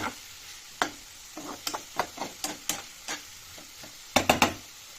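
Spatula scraping and stirring through pumpkin curry in a pan, with raw unripe pumpkin nearly boiled soft. Close, irregular taps and scrapes come one after another, then a quick cluster of louder knocks near the end, with no talking.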